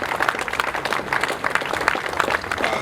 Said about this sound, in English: give a double clap for our High Commissioner who is now leaving us